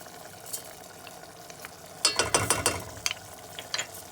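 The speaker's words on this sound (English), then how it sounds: "we mix it all and let it all cook together" Spoon stirring tomato paste and spices through Moroccan zaalouk in a pan, with a burst of scraping and sizzling in the middle and quieter clicks before and after, close and without talk.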